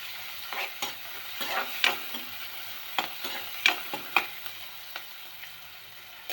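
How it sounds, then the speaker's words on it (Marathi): Onion is stirred and fried until golden in a pan for spicy homemade poha. A soft sizzle runs under irregular, close scraping strokes of a spoon, with a few sharper clinks against the pan. "कांदा सुद्धा मी टाकून घेतला. आता ह्याला छान असं आपण हलवूया"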